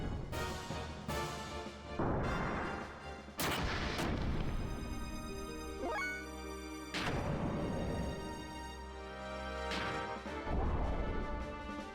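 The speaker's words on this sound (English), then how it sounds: "I guess we'll stop shooting magic at her." Magic attack shots blast in a Xenogears game battle, a series of loud booming impacts and crashing bursts, several in quick succession with sweeping whooshes between them over layered battle music.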